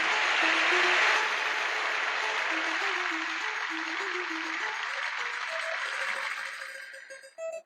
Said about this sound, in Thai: ขอเสียงปรบมือต้อนรับน้องขันคำบ้านบ่อหินโดยสเก็ตนะครับ